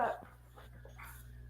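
A beagle pants softly and lets out a brief whimper close by, with quiet voices in the room around it.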